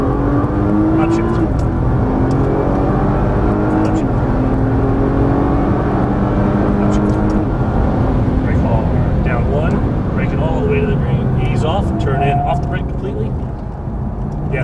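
A car's engine roars continuously under hard throttle through a turn on a track, loud and close, with rising pitch as it accelerates, while a voice talks over it.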